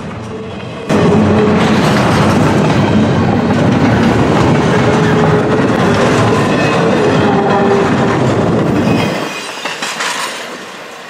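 A CSX train rolls past at Marion, Ohio, a loud, sustained rumble of wheels and cars that starts abruptly and holds steady for several seconds before dropping away as the consist clears.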